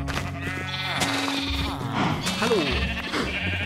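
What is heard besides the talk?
sheep bleating in video game Minecraft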